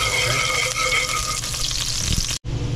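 Close, steady sizzle and crackle of food frying in a pan with pepper, dense and continuous, briefly cutting out near the end before resuming.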